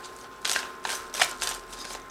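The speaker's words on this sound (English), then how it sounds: "And I have shuffled this deck." Quick riffling bursts of a tarot deck being shuffled, four or five short papery flutters in a row, close and fairly quiet.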